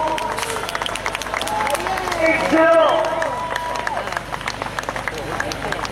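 Crowd clapping and cheering at an outdoor motorsport stunt show as a rider finishes a stunt, with the applause swelling briefly in the middle under a commentator's talk and an engine whine.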